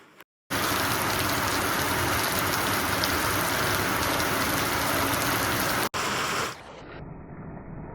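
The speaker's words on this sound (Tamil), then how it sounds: "காலையிலேயே சரியான மழையாக பெய்யுதுங்க" Heavy morning rain pours in a steady, dense hiss for several seconds during the rainy season, close and loud, then cuts off abruptly into a quieter background.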